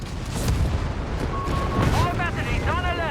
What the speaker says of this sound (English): Double base bombarding, we got a push here. Artillery support called in here.